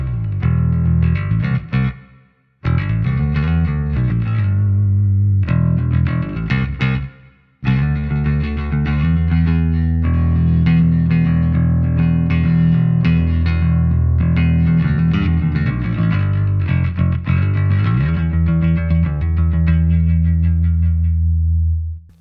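Electric bass, a Lakland Skyline 44-64 Geezer Butler Signature PJ bass on its neck pickup alone, played through an amp with a warm, round tone and light reverb, a riff with a couple of short pauses, no talking.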